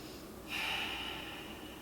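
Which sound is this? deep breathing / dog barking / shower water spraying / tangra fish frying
deep breathing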